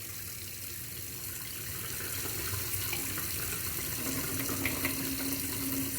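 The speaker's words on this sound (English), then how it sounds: "go ahead and fill your pot up with water" Tap water runs steadily into a cooking pot while rice is rinsed, a constant splashing hiss that grows slightly fuller partway through, with no talking.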